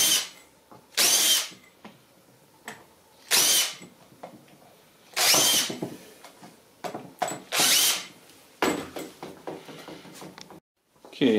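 Power drill opening holes out to 3/16 inch in a Yamaha Enticer snowmobile seat, several loud whining bursts of a few seconds each separated by short pauses, close up with no talk.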